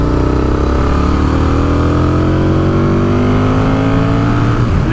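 A 2003 Aprilia RSV 1000R with a V2 engine accelerating hard, loud and close, its pitch climbing steadily through the revs as gears change, alone with no talk over it.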